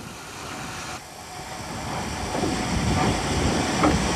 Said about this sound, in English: the loco rattled across the wetland embankment for the final time